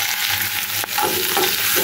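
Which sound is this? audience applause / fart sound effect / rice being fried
rice being fried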